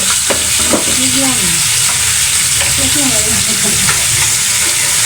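Oil crackling and sizzling in a hot pan on a stove as curry cooking gets underway, a steady close frying hiss with occasional stirring scrapes.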